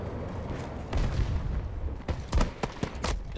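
Sharp, heavy gunshots from a sniping video game, a booming report near the middle followed by several punchy cracks in quick succession over continuous low ambient rumble.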